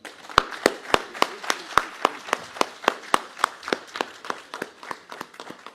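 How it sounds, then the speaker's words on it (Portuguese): An audience claps at a formal ceremony, the installation of a new board of a pharmaceutical sciences academy, giving a steady run of sharp, fairly close hand claps that thins out and softens toward the end. "Uma salva de palmas."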